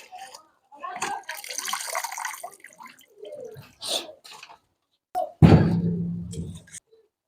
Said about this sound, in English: I like to wash this one with salt because of stone to remove every form of stones and dirt.